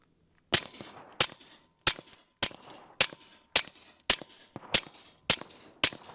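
A SilencerCo Maxim 9 suppressed pistol fires ten evenly spaced, sharp muffled cracks into dirt, each followed by a short fading tail, close by and with nothing else between the shots.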